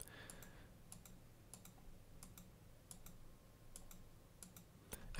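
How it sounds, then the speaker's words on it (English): Computer mouse clicks at a desk while selecting items in Blender's outliner, a series of sharp, quiet, evenly spaced taps over a faint background hum with no talking. "By control clicking on an item there, you can add or remove it from the selection."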